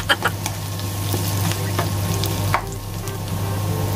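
Garlic, ginger and onion sautéing in a pan for sweet and sour tilapia escabeche, a steady close sizzle with occasional sharper crackles and stirring scrapes, no talking.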